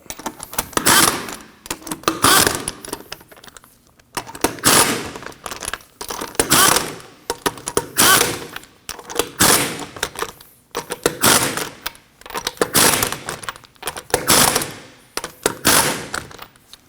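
Wheel bolts on a 2003-2006 Subaru Baja being run down in repeated bursts of a rapid, rattling impact-tool hammering, about eight loud close bursts separated by short pauses, with no talk.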